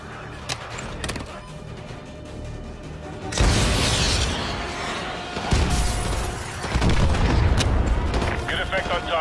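AGM missile strikes hit a BTR armored vehicle in Call of Duty: Modern Warfare 2, with a heavy roaring blast after a few seconds followed by further rumbling explosions, loud against quieter game ambience.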